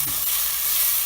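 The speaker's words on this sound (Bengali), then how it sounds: "ধোয়া কলাইয়ের ডালগুলো দিয়ে দেবো। এবং প্রায় 2-3 মিনিট ধরে এটা রান্না করব।" Washed urad dal sizzles steadily in hot oil in a pan, a close, continuous bright hiss with a faint stir at the start.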